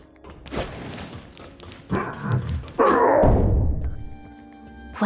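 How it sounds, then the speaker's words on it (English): Heavy thuds of someone banging on a door in the video game Tower of Fantasy, a few dull booming knocks in irregular bursts, close and fairly loud over low background music. "It sounds like someone's banging on the door."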